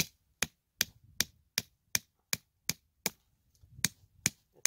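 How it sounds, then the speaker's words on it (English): A metal tent peg is hammered into the ground outdoors with about a dozen sharp, evenly spaced strikes roughly every 0.4 seconds, each a crisp close impact. "So I'm hammering down on this tent peg."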